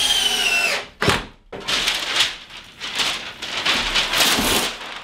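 A drill drives square-head Robertson screws into wood during a bow build, its motor whining in loud, near bursts separated by short pauses, with a grinding, crackling texture as each screw bites.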